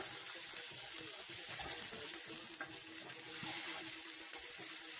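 Vegetables frying in a hot pan, giving a steady bright hiss and sizzle with occasional small pops, continuous and close, no voices.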